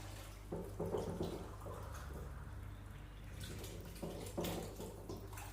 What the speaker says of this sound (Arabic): نحط له ماء عادي.